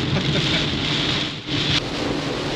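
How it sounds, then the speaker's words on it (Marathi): Heavy rain pours down steadily in a dense, loud hiss, with a brief dip partway through before the downpour resumes. "तुम्ही बघू शकता काय जोराचा पाऊस"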